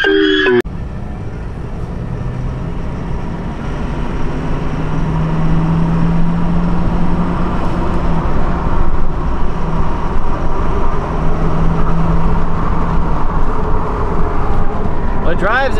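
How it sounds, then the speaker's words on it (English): A Ford F250 pickup with a 6.7 Powerstroke diesel engine drives up a street, giving a steady, continuous low engine drone with road rumble at constant loudness throughout. "So just want to drive it up the street real quick, make sure the tranny and everything shifts"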